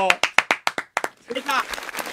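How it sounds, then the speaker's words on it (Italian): A handful of sharp, separate claps in quick succession, close and fairly loud, followed by someone talking. "un applauso."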